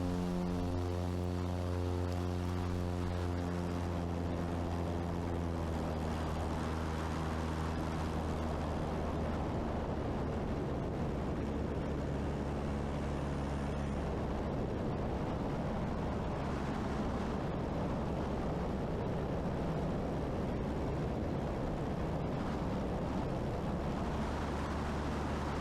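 A Cub Crafters Carbon Cub FX3 light propeller airplane drones steadily and loudly in flight, its engine tone holding strong harmonic pitch as it climbs away after a touch-and-go, with no talk over the sustained roar.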